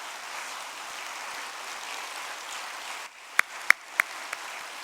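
A congregation at a church installation service applauds for the incoming chairman and director, a steady, moderate-volume clapping that fades out, followed by a few sharp, isolated claps.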